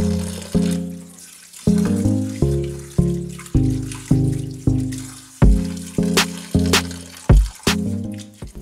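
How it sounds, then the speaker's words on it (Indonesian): Raw potatoes are rinsed in a bowl under running tap water, a series of roughly ten splashing, gurgling bursts as the water is stirred and poured, close and loud. "Ini kita cuci di air mengalir sampai air rendamannya nanti jadi jernih"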